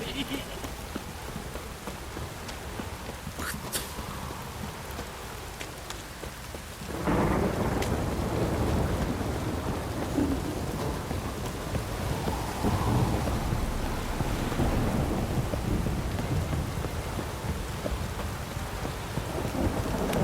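The Witcher 3 storm soundscape: rain patters moderately, then surges into a loud, roaring downpour with rolling thunder that stays heavy to the end.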